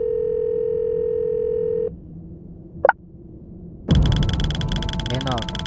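A telephone dial tone in a Roblox horror game holds steady for about two seconds, then cuts off. A brief rising blip and a harsher, buzzing line signal follow, loud and close.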